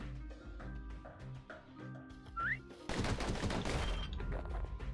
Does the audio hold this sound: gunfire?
yes